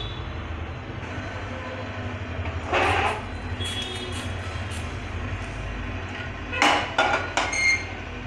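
Golden-brown roasted sesame seeds are scraped from a metal pan onto a plate, making a few bursts of scratchy clatter and light metallic knocks over a low kitchen hum, with no one speaking.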